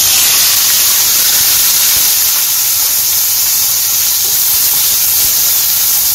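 Chopped onions hit hot oil with toasted cumin seeds and sizzle in a loud, steady hiss that holds unbroken throughout, with no talking over it.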